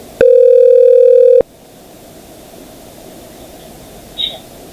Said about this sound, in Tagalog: Nag-ring po siya.